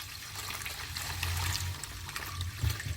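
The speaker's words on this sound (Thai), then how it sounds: "เรากรองผ่านกระชอนได้นะคะ" Fermented roselle wine streams steadily through a sieve, a continuous close trickle and splash with no speech.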